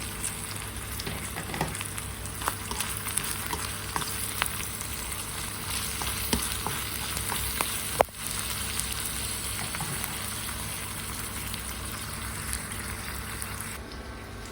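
Round dried red chillies frying in hot oil for a Kerala purple yam dish, a steady dense sizzle throughout with scattered crackles and one sharper pop midway, no voices.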